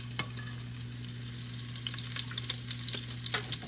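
Fatty meat frying in plenty of oil, a steady bright sizzle with crackling pops that grows busier toward the end, with a low constant hum underneath and no one talking.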